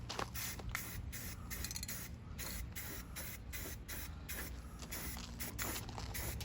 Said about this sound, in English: Let's go get our spray paint and let's check this out.